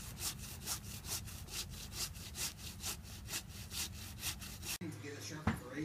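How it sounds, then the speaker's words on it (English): Steady back-and-forth hand sawing through a Christmas tree trunk, rhythmic rasping strokes close by, then it stops with a brief bump at the end. "That he's sawing the tree down."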